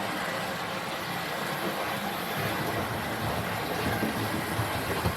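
A small model train rumbles and clatters steadily through a model station, a continuous rolling whir that grows slightly louder toward the end, with no voices.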